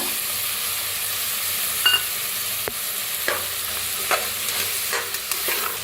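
Masale bhat ingredients, including rice, grains and peas, roast in a pan with a steady dry sizzle, broken by several sharp scrapes and clicks of a stirring spoon.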